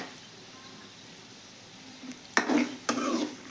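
Cumin and fenugreek seeds dropped into hot oil for a cabbage chutney set off two short bursts of sizzling after a quiet stretch. The bursts are close and fairly loud, with no voices.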